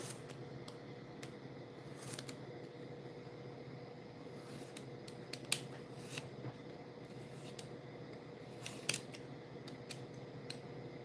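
Scissors cutting paper for a junk journal at a crafting table, with scattered brief snips and crisp clicks over a steady faint background hiss, close and quiet, no voices.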